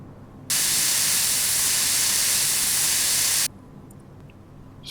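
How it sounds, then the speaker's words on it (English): Lubricant spray hissing onto new bushings during a repair in Offroad Mechanic Simulator: a single steady, loud, close hiss lasting about three seconds, starting and stopping abruptly. "Spray and lubricate."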